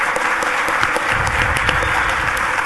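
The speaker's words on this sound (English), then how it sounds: "Let's give all of our guests a round of applause." Audience applause for the guests at an Article V debate, a steady, dense wash of clapping that fills the room, sustained and fairly loud throughout with no voices over it.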